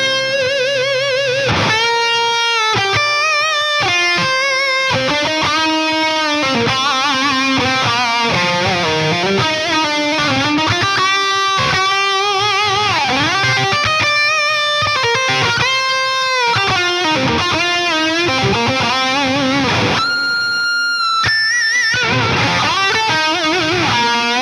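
A high-gain electric guitar plays a lead line through reverb and delay, with sustained bent notes, quick runs and sliding pitches that ring out loud and alone for the whole stretch, their tails echoing between phrases.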